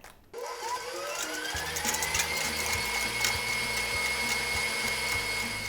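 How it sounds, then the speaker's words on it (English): Electric stand mixer creaming softened butter for pumpkin cookies, starting up and rising to a steady whirring motor drone with a faint rhythmic knock, close and continuous with no talk. "Now that my butter is completely softened and it's creamed in the mixer"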